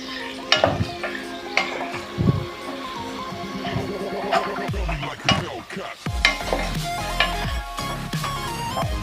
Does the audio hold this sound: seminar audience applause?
no